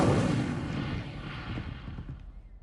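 A fiery Incendio spell cast in the Hogwarts Legacy game erupts as a loud, rumbling burst of flame that slowly fades over a few seconds.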